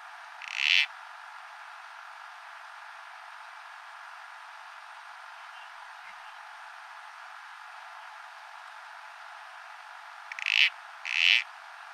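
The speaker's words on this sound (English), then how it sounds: "the northern corroboree frog in the ACT region, just because it's so iconic and it has a really cool call as well" Northern corroboree frog calling in alpine country of the ACT region: one short, squelchy call near the start, then a quick pair of calls near the end, moderately close over a steady hiss of insects and background noise.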